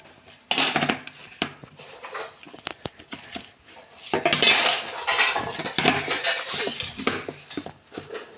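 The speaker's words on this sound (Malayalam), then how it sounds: "നല്ലോണം അടിച്ചെടുക്കുക. നല്ലോണം മിക്സ്." A mixture is beaten hard in a bowl, a utensil clattering and scraping against the sides in bursts of quick, busy strokes with brief pauses, close and fairly loud, no voices.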